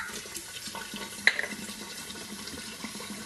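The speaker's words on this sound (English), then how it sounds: "So you add the water. I add it till it gets right above the nozzle" Water poured into a dispenser for homemade essential-oil laundry detergent, a soft continuous splashing and trickling fill with a brief sharper splash partway through, close by and fairly quiet.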